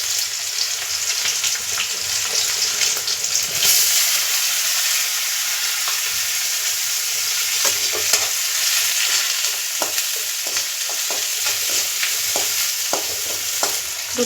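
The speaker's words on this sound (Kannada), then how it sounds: "1 ಕಡ್ಡಿ ಕರಿಬೇವು, 2 ಈರುಳ್ಳಿ ಸಣ್ಣಕ್ಕೆ ಹೆಚ್ಚಿ ಹಾಕಬೇಕು." Finely chopped onions, curry leaves and cumin fry in a pan with a loud, continuous crackling sizzle, broken by frequent scraping stirs and spatters throughout.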